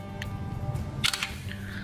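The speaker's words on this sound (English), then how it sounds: "So that was the shutter key telling that the screenshot has been captured." Short shutter-style click from an LG G2 Android phone capturing a screenshot, a brief crisp camera snap standing out over a quiet low hum with faint background noise.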